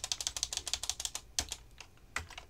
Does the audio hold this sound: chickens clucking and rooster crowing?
no